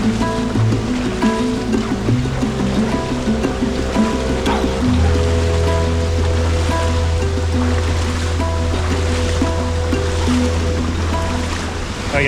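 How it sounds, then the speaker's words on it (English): A very powerful waterfall in Bali, a loud, constant rushing roar of water close by, with a low tonal hum running underneath. "It's a very, very powerful waterfall."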